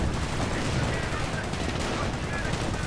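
Gunfire and high-explosive shells from a WWII strategy video game build a dense, continuous battle din of overlapping shots and blasts, steady and fairly loud with no talk.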